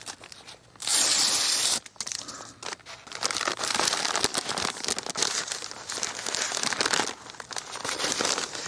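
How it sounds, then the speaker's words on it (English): A crinkly plastic package is torn and pulled open by its flap, giving a loud tearing burst followed by rapid crinkling and crackling close by. "So we'll go ahead and open this package."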